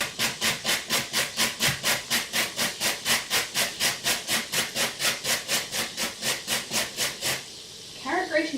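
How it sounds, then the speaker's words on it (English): A carrot grated by hand on a kitchen grater: about thirty loud, steady rasping strokes in a fast, even rhythm, close up, then a brief pause with faint rustling at the end. "Carrot grating is so violent."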